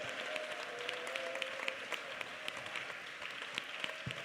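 Church congregation clapping hands together during a Pentecostal Sunday service, a dense, steady wash of applause from many people with scattered sharper individual claps, continuous and moderately loud throughout.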